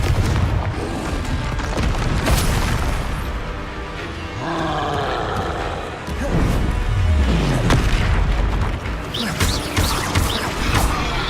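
Confringo spell blasts in Hogwarts Legacy combat land as loud booming bursts with roaring, crackling tails amid other spell effects and growling creature noises, several heavy impacts spread across the stretch.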